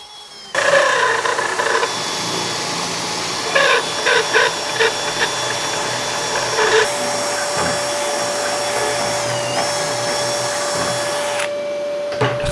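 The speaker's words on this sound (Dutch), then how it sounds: "Boor met de lange boor van 10 mm tot je bij de grote gat bent." An electric drill with a long 10 mm bit whines steadily as it bores into wood, running close and continuous for around ten seconds with a few brief knocks.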